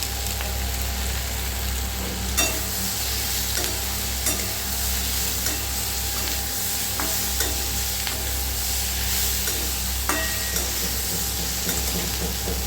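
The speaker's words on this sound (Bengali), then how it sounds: "আমি 2-4 মিনিট সটে করে নেব।" Pizza topping sautéing in a pan with ground black pepper, a steady loud sizzle running throughout, broken by occasional scraping clicks of a utensil as it is stirred.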